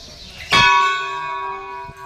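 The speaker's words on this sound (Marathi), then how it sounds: "सगळ्यात मोठी घंटा बघितली ही घंटा आणि ही घंटा मी काय हमेशा वाजवत असतोय" A large temple bell is struck once, loud and close, in a village temple. Its bright metallic clang rings out and then hums steadily as it slowly fades.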